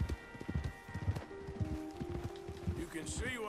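Horse hooves clip-clop at a steady walking rhythm in Red Dead Redemption 2, fairly close and clear, heard beneath a man's speech and light background music.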